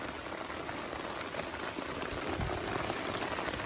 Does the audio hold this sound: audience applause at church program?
no